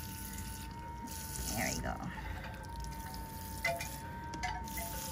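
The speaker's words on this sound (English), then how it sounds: "So now I just water that side." A small amount of water trickles and drips onto succulents and an aloe in a plant box, with soft intermittent pours under quiet background noise while a person speaks briefly.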